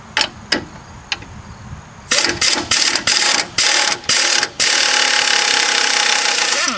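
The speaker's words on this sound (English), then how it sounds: "I'm going to use my impact gun to loosen it up" An impact gun loosens an 18 mm sway bar link nut on a Nissan Rogue, firing several short sharp bursts and then hammering continuously for about two seconds, loud and close.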